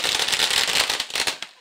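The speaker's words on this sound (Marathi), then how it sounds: "यावेळेस मात्र फटाक्यांच्या आतिषबाजीमध्ये आपण बघू शकाल" Fireworks crackle at a cricket tournament presentation, a dense stream of sharp bursts and pops that fill the short moment and thin out toward the end, fairly loud and close.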